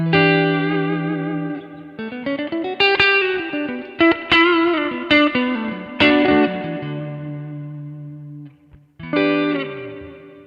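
Electric guitar through a Kemper amp with the stomp compressor switched off plays a picked melodic phrase with chorus, slight grit and reverb, notes ringing out and swelling unevenly, close and clear with no talk.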